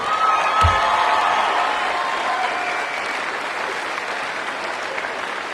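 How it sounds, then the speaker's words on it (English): A commencement audience breaks into loud, sustained applause with some cheering, rising quickly and then holding steady as a dense wash of clapping from a large crowd. "You owe your mothers a round of applause today."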